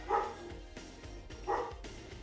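A dog barks twice during a refrigerator delivery, two short loud woofs about a second and a half apart over a low background hum.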